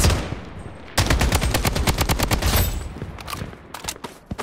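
Rapid automatic gunfire from the mobile shooter game Project Bloodstrike, a loud sustained burst of evenly spaced shots that starts abruptly after a brief lull, then thins into scattered, fainter shots toward the end.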